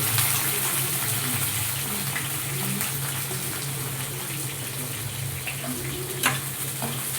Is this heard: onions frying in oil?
yes